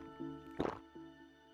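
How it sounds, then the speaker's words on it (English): Water poured from a mineral water bottle into a glass, a short liquid splash and trickle lasting about a fraction of a second, heard over a steady background music bed in the Tsukihime visual novel. "I find a bottle of mineral water inside and pour myself a glass."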